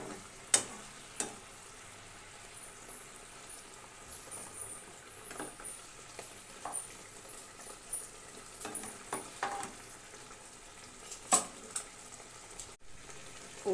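Fried eggplant pieces simmer in a spicy oil-based vegetarian gravy on a raised flame, giving a quiet, steady sizzle and soft bubbling broken by scattered light clicks and pops, with no voices.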